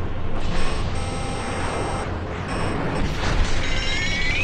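Ruiner 2000 homing missiles in GTA 5 fire and explode in a dense, loud barrage of booms and mechanical whooshes, with a rising whistle near the end.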